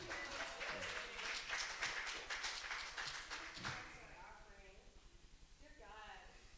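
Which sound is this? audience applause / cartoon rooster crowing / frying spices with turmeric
audience applause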